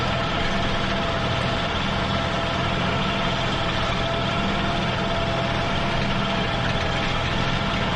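A tractor engine drives a power harrow at around 1700 to 1800 RPM, a steady, dense mechanical drone heard from inside the cab, unchanging and loud for the whole stretch with no voices.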